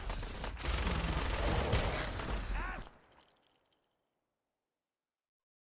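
Heavy gunfire in the video game Fallout 4, a dense burst of rapid shots and clattering impacts for about three seconds that cuts off sharply and leaves silence, no talking.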